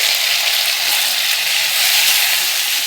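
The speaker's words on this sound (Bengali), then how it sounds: "পেঁয়াজটাকে আমি ভালো করে ভেজে লাল করে নিয়েছি।" Onion and chopped tomato frying in a pan for a chicken and potato curry, a steady close hiss of sizzling oil with no pauses.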